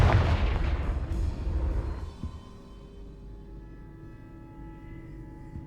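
A Confringo fire spell blast from Hogwarts Legacy, a loud booming explosion with a rolling rumble that decays over about two seconds into a low ambient hum.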